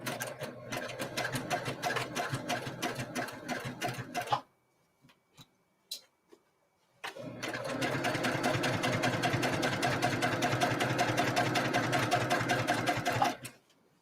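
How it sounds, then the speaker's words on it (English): A sewing machine stitches quilt binding in a fast, steady mechanical rattle for several seconds. It stops briefly with a few isolated clicks, then runs again steadily to the end, close and loud. "One more stitch. Then I stop with the needle down and then make the pivot."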